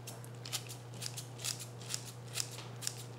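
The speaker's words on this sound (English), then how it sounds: "we're just gonna use the herb scissors" Herb scissors snipping fresh garden parsley, a run of quick, light crisp snips spaced about half a second apart, close and fairly faint over a steady low hum.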